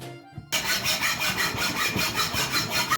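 Holes are drilled into a metal weight for a working toy forklift, with a compressor used in the work. After a brief quiet start, a loud, rhythmic grinding bites in with regular strokes, close and without talk.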